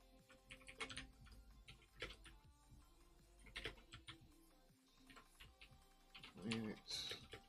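Keys clatter on a computer keyboard in irregular bursts while someone codes in C with GTK, the clicks fairly close and moderate, with a brief louder clatter near the end.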